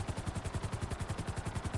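A helicopter in GTA Online, a fast, regular rotor chop that thumps evenly and continuously, fairly faint, with no talk over it.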